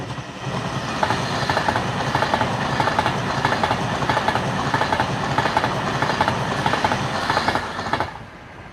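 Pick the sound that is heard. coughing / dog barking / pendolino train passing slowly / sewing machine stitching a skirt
pendolino train passing slowly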